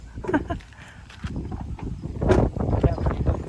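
A horse's hooves clip-clop nearby at a property site visit in Lipa City, a few irregular steps sounding under steady conversational talk.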